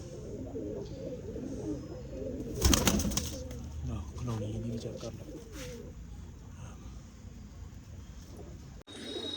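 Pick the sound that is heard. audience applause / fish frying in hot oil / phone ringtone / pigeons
pigeons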